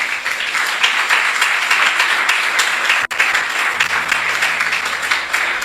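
A church congregation claps together during a Spanish-language sermon, sustained, even applause across the whole span with one brief dropout midway.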